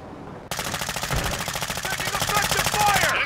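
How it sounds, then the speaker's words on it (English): Dense, rapid automatic gunfire in Call of Duty: Modern Warfare II starts abruptly after a brief quiet moment and continues as a loud sustained burst of evenly spaced shots, with a faint voice briefly audible underneath. "Taking effective fire!"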